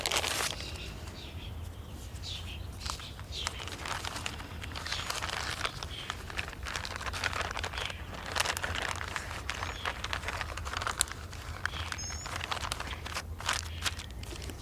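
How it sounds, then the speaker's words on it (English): A plastic bag crinkling and crunching as it is sealed around a folded paper towel holding seeds, with scattered close, quiet rustles over a soft background. "slide it into a plastic bag"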